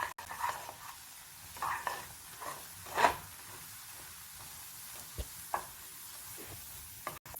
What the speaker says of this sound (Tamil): அது வரைக்கும் நல்லா கிளறி விட்டுக்கலாம்.